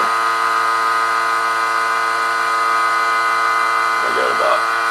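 A high-voltage apparatus at about 60,000 volts, holding clay in a vacuum chamber, is switched on and gives a steady, loud electrical buzz with many even overtones, holding constant throughout, with a brief voice near the end.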